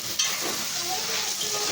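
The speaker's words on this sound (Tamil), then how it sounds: "நல்லா பச்சை வாசம் போகிற அளவுக்கு வணக்கி எடுத்துக்கலாம்." Tomatoes and onions for a fish curry sizzle steadily in a hot pan, a close, continuous frying hiss with light stirring scrapes throughout.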